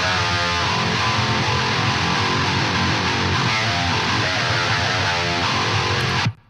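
Modern metal electric guitar played through a custom amp simulator modeled on a black amp, giving a dense, heavily distorted, palm-muted riffing tone that stays loud and constant before cutting off abruptly at the end.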